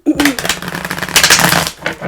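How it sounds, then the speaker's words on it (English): A deck of tarot cards is shuffled by hand in quick riffling bursts, close and fairly loud, with a voice speaking over the start. "Let me shuffle these back in."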